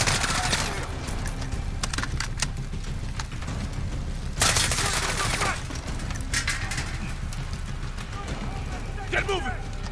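Machine gun fire in a Call of Duty Modern Warfare campaign battle, sustained loud bursts and crackling volleys throughout, with shouting soldiers' voices mixed in over the shooting.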